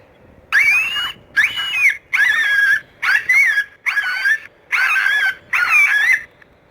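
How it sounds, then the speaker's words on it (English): A series of high, whining yelps repeats in short bursts with brief pauses, the electronic reproduction of a coyote pup call played through a speaker. "Here's a coyote pup."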